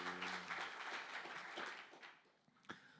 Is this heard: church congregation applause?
yes